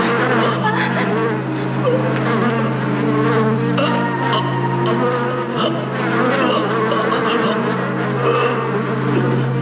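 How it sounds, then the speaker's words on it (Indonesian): Swarming bees from an anime dub, a dense continuous insect buzz with a steady low drone, loud and close throughout, with no clear talking over it. "lebah-lebah ini akan segera menyerang siapa saja orang yang berada di dekatku"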